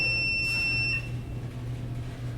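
A single sharp electronic beep sounds, a high pure tone lasting about a second, over a low steady hum with no talking.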